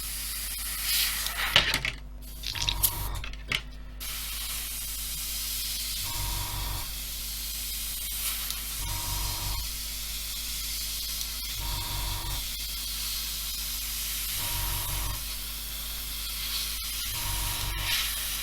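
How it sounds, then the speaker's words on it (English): An airbrush sprays thin paint onto an Airfix 1/24 F6F-5 Hellcat model, short soft hissing bursts repeating at regular intervals over a faint steady background hiss, close and without talk. "I guess I have got a sticky bulb on my airbrush, and this paint is too thin"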